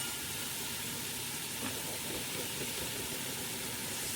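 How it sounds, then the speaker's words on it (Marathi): Whole masala spices fry in hot oil for chicken biryani, a steady, loud, even sizzle and hiss that continues without a break, with no voices over it. "तर हे बघा ह्या पद्धतीने छान आता तडका बसत आहे त्याला."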